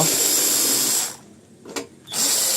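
A power driver whirs steadily while taking screws out of the underside of a rice cooker, cuts off briefly, gives a short burst, then resumes close up, with no talking.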